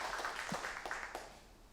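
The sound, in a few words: church congregation applauding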